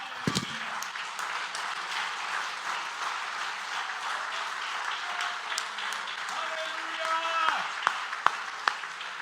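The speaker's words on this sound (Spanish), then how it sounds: "Si le va a aplaudir, hermano" A church congregation applauding during a sermon, a sustained wash of clapping with voices and brief shouts mixed in, rising slightly toward the end.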